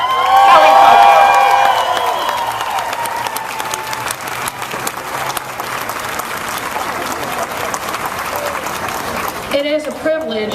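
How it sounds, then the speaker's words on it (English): Rally crowd at a women's health event claps and cheers loudly and continuously, dense applause swelling early then holding steady, with a voice speaking briefly near the end. "she deserves a big round of applause"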